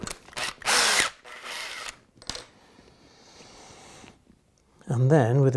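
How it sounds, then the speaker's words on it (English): A power drill bores through a model railway baseboard while laying track, giving short high-pitched whirring bursts near the mic, with someone talking between the bursts. "go through there with the drill"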